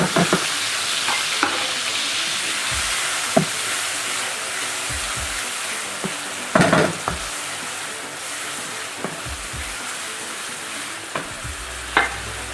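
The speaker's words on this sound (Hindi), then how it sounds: "प्याज डाल के हम इसको फ्राई करेंगे" Chopped onions frying in a pan with a tomato puree and yogurt gravy base, giving a steady loud sizzle throughout with occasional scraping stirs and soft clanks of the spoon against the pan.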